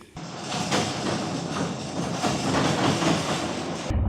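A car with an aftermarket exhaust rolls along the road with a steady, throaty exhaust drone and road rumble, heard from inside, continuous and fairly loud with no talking.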